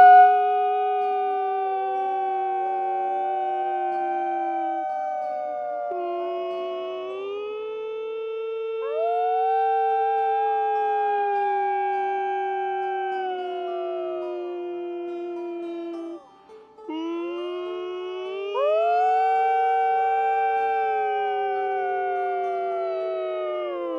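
Several people howl together, imitating a wolf pack in the taiga, their long, rising and falling wavering tones overlapping continuously with a brief dip near the end before resuming.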